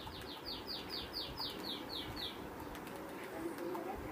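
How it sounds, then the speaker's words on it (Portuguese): Series of descending bird chirps from a bird flying past in a video game, repeating about eight times over the first two seconds, over a steady noisy game background with faint low rumble. "Ó o passarinho passando aqui, ó."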